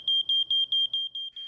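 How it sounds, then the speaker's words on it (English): A smoke detector alarm sounds a series of loud, piercing, high beeps in a steady rhythm, about seven in a row, with nothing else audible. "Make sure smoke detectors are working."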